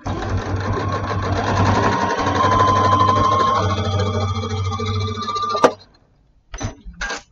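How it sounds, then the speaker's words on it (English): A sewing machine runs fast in a continuous loud whirring stitch for several seconds, stops with a sharp click, then gives a brief second burst after a short pause. "I can sew fast also."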